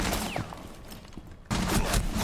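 A rapid burst of gunfire crackles in a video game esports match, fades briefly, then resumes in dense overlapping shots.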